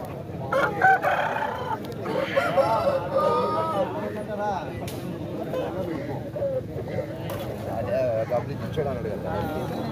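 A rooster crows amid a busy, noisy crowd at a Saturday country-chicken market, with people talking close by throughout.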